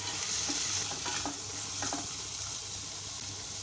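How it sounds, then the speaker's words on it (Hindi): Soaked chana dal being stirred into ginger garlic paste in a hot pan, giving a steady sizzle and frying hiss with soft scraping stirs throughout, no talking. "अब मैंने जो चने की दाल भिगोई हुई थी ये डाल दूँगी इसके अंदर। इसको डाल के अच्छी तरह से मिक्स कर देंगे।"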